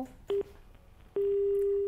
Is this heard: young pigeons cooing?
no